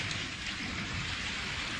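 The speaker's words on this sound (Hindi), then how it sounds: "बारिश!" Steady rain pours down continuously in a Doraemon cartoon, a dense broadband hiss of drops hitting surfaces, close and even throughout with no voices.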